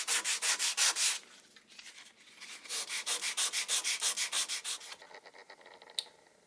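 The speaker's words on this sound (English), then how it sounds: "a little bit of sanding and that'll clean up" Rhythmic back-and-forth sanding strokes on a wooden dashboard edge for an Austin 7, close and brisk, a run of quick rasps, a short pause, then another steady run of scratchy rubs.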